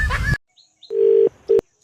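Two steady electronic tones of a phone keypad being dialed, a long beep then a shorter one, after a brief burst of voice at the start.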